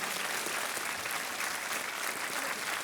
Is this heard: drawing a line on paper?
no